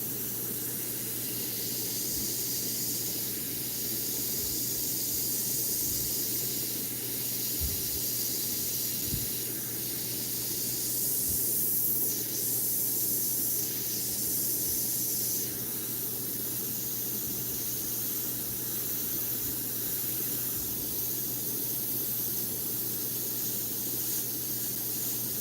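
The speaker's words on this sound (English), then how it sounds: "I'm going to have just a lighter spray there" An Iwata CM-SB airbrush sprays Createx illustration paint onto Claybord in a faint, steady hiss that runs almost unbroken, over a low constant hum and a few soft clicks, with no voices.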